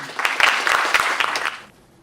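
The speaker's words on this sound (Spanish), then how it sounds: "les pido un voto de aplauso para Santiago también" Brief applause from an audience at a presentation on capital repatriation and IFRS accounting standards, a short burst of clapping with distinct claps in it that quickly fades out.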